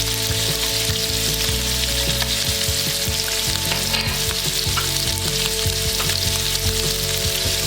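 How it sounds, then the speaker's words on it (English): Browned meatballs with freshly added garlic fry in one pan, giving a loud, dense, continuous sizzle with occasional crackles and bursts, close up and alone. "Once our meatball gets nice and brown color from all the sides, we add garlic in the same pan."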